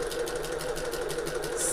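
A sewing machine runs steadily on a tote bag at a long basting stitch, crossing the turning gap; a continuous, even mechanical hum with a fine rapid needle patter, close by and without pauses.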